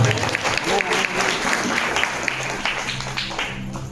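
Congregation clapping during a sermon preached by Apostle Ashok Khura, a thick, continuous roar of many hands, loud and close, with voices faintly mixed in beneath.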